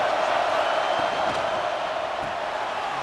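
Steady wall of stadium crowd noise in College Football 26, a broad continuous roar of fans at a Louisiana Tech game building presence, sustained and fairly loud throughout with no distinct talk on top.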